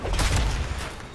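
A few pistol shots fire off in quick succession in Suicide Squad: Kill the Justice League, loud booming cracks bunched together in a short burst, mixed with other game noise.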